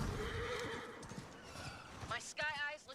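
A horse whinnies in a survival video game, a rising and falling neigh near the end over a low rumble of hooves and game sounds, with a voice speaking over the action.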